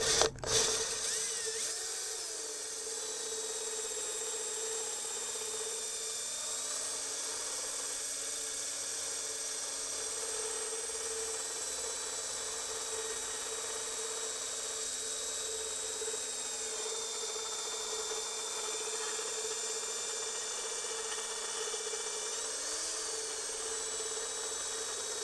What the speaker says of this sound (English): let the weight of the drill do all the work for you.